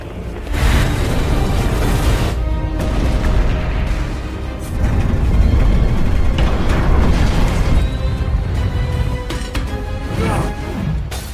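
A jet is blown up on its wing in an action-film explosion sequence, heard as a sustained loud roaring boom with rumbling debris and bursts, and no talking.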